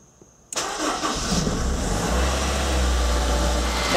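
A Honda S2000 engine cranks and catches after a half-second of near silence, then settles into a steady, loud idle with a deep rumble while the car sits in neutral.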